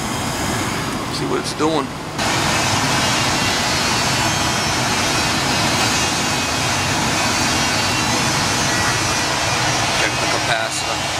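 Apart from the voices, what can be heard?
gas furnace blower motor running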